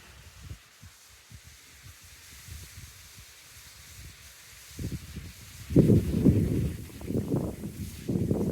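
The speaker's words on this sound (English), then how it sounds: "Very windy" Gusty wind buffets the microphone outdoors in the Hanbury Hall grounds in September, low rumbling blasts growing stronger and louder toward the end.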